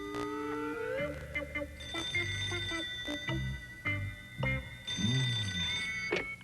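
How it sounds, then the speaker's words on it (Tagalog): A cartoon telephone rings in repeated electronic tones, with bursts broken by short gaps and mixed with a playful musical score, fairly loud and upfront. "pakisagot ang telepono"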